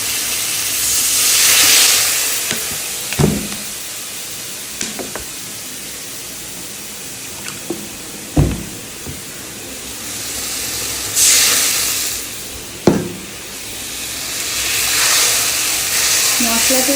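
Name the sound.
spice paste sizzling in hot oil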